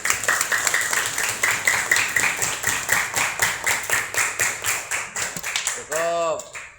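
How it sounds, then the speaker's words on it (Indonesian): A classroom of students claps in unison for a classmate, a steady run of sharp, close claps in regular rhythm that stops abruptly, after which a voice briefly speaks. "tepuk tangan buat Tete Adinda"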